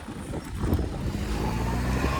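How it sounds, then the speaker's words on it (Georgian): A car approaching along a road, its engine a steady low rumble that holds fairly constant and moderately close through the short stretch, with no talk. "მანქანა მოდის იქიდან"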